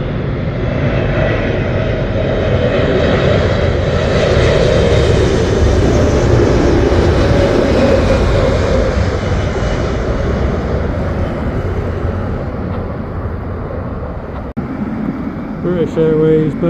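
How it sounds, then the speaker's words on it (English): A British Airways Boeing 787-8 Dreamliner landing at Heathrow, a loud, sustained jet engine roar that swells and slowly fades. Wind-like rushing noise runs underneath, and a brief voice may be heard near the end. "British Airways Boeing 787-8 Dreamliner."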